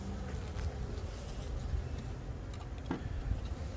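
Honey bees buzz steadily from a package being installed into a hive, a dense continuous drone filling the scene with a few faint knocks and handling sounds.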